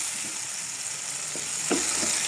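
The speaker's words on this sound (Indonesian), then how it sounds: "Ini minyaknya udah panas, langsung saja ditumis sebentar ya teman-teman." Sambal chili paste sautéing in hot oil, a steady bright sizzle throughout with a few soft scraping stirs near the end, no voices.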